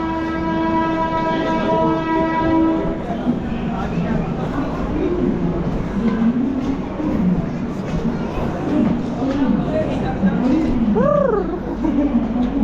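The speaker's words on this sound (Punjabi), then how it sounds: "ਆ ਖੜੀ ਹੈ ਸੱਚਖੰਡ ਐਕਸਪ੍ਰੈਸ" The Sachkhand Express rolls in at a busy station platform, with a long, steady horn blast early on, rumbling wagons and a rising whistle-like tone near the end, under constant crowd chatter and people talking.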